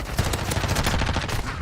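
Rapid submachine-gun fire in Modern Warfare 2 rattles out as a dense, continuous burst of closely spaced shots, loud and close, with no talking over it.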